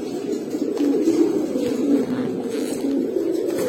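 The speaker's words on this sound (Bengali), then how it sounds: "বিগ সাইজের এক পেয়ার গ্রিজেল।" Pigeons cooing steadily and close by, a large pair of grizzle pigeons whose low, rolling calls overlap continuously with no talk.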